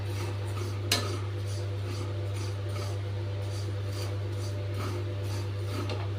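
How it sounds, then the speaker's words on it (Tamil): Flattened rice (aval) being dry-roasted in a pan, with faint steady scraping and rustling from stirring over a constant low hum, one brief louder clink near the start. "இப்போ இந்த அவில் லேசாக சூடார வரைக்கும் வறுத்துண்டா போதும்"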